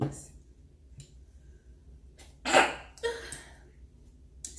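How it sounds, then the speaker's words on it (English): A single sharp sneeze bursts out close and loud midway through, set among a quiet room's soft breaths and small mouth noises. "I have to sneeze."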